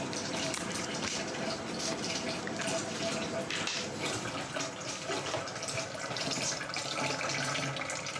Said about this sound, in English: So this is step number 5, sparging into the fermenter.